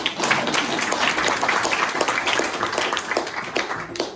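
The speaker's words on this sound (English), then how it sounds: "I'm going to give a first clap for all of you" Audience clapping at a speech kickoff event, a steady dense patter of many hands sustained throughout at moderate loudness, with faint talk mixed underneath.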